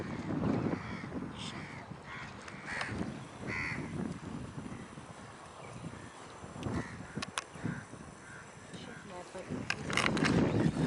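A crow caws several times amid talking voices and breezy outdoor noise on Murjan Island, Dammam, Saudi Arabia, with a louder burst of activity near the end.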